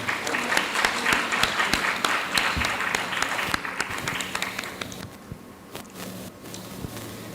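Conference attendees applaud a speaker at a urologic oncology and uropathology congress, a room of distinct close claps that thins out and fades toward the end.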